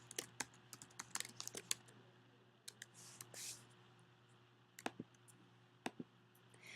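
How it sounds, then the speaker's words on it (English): Someone types a quiz question on a computer keyboard in short bursts of light, quick key taps with small gaps between them, faint and close against a low steady hum. "you type in the question, Lincoln was president during the Civil War."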